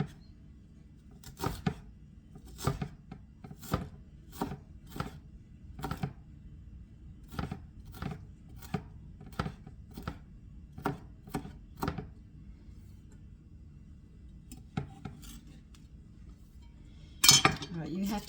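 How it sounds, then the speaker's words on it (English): Vegetables being chopped on a cutting board with a knife, a series of sharp, distinct knocks in an uneven rhythm, some closely spaced, in a quiet kitchen with a louder clatter near the end. "We didn't finish chopping all the vegetables because I was putting some away."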